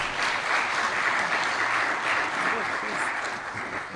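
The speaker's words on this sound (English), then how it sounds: "Another big round of applause for Daisy." An audience at a consultative workshop on a national economic recovery plan breaks into steady applause after a speaker's address, full and even clapping throughout that eases slightly toward the close.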